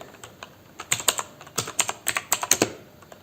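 Keys on a computer keyboard are tapped close up in an irregular burst of about a dozen crisp clicks while a command is typed, with short pauses between strokes and no voices.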